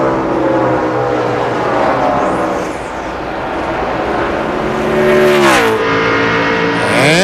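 NASCAR stock cars at the 2002 Pennsylvania 500 roar loudly around the track, a dense engine drone with a car sweeping past close by and pitch shifting as it exits a turn, no talk over it.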